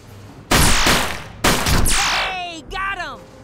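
Gunfire in the video game UFO Afterlight comes as two loud, sudden bursts of blasts with sweeping effect tones, followed by a short electronic chirping tail.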